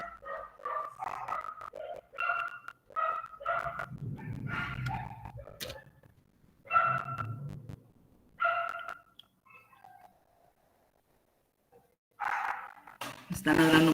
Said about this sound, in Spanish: Están ladrando mucho los perritos de mi vecino.